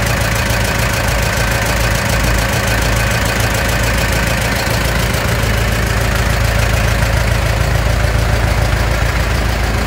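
A Shibaura V52F compact tractor's diesel engine idles steadily and loudly up close, a dense continuous rumble with faint knocking and no talk over it.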